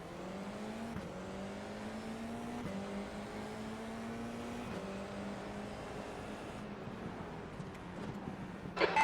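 F4 race cars in the iRacing sim pull away from a standing start at Tsukuba, one engine droning close and loud as it climbs through several upshifts, each marked by a brief dip and a fresh rising whine.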